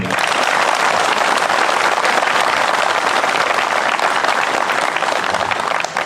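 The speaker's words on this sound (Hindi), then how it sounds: "एक बार जोरदार तालियां टीम 148 के लिए।" Loud, sustained applause from a crowd at a CRPF 148th Battalion day celebration, dense steady clapping filling the whole span without letting up.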